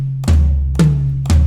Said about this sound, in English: And then obviously we're just using the two toms here.